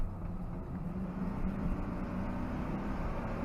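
A truck engine at full throttle, a steady broad roar that builds slightly and holds, close up, with wind noise layered over it and no talking.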